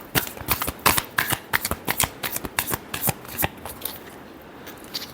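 Tarot cards being shuffled by hand in a rapid, crisp riffling rhythm of many quick flicks, close and fairly loud, with no talking over it.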